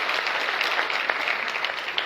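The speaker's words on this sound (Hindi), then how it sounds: "जोरदार ताली होनी चाहिए" Seminar attendees clap together in a steady, fairly loud round of applause, with individual claps popping through the even wash of sound.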